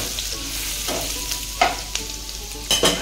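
Curry leaves and ginger-garlic paste sautéed in hot oil for a dry cluster-bean stir-fry, a steady close sizzle with a few sharper scraping stir strokes spaced across the moment, no talking.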